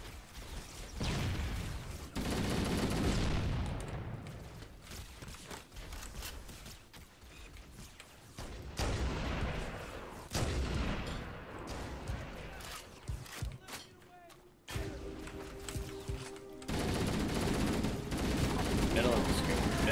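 Mounted turret gunfire in Halo: Combat Evolved comes as bursts of rapid shots and sharp cracks. The bursts repeat across the stretch over game ambience, with pauses between them.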